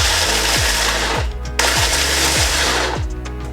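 Whole macadamia nuts chopped in a food chopper, giving a loud, rapid rattling and grinding with rhythmic pulses and a brief pause midway, close up and without talking.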